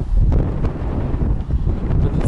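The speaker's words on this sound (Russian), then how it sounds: "Посмотрите, какой сильный ветер." A strong, gusting wind roars loudly and steadily against the microphone near a mountain roadside stop in Vityazevo, with a low rumbling buffet and brief surges, no talking.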